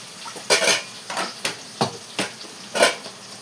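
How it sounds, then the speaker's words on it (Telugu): Curry leaves, green chillies and onions dropped into hot oil as a rasam tempering, a run of sharp spattering crackles and metal clinks from a pan, spaced bursts close by with no talking. "మేము చారులో రసంలో ఇలా వేసుకుంటాం పోపు"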